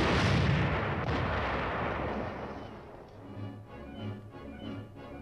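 A high-velocity 90 mm tank gun fires with a heavy booming blast that rolls away into a long, fading rumble, followed by a quieter low mechanical drone.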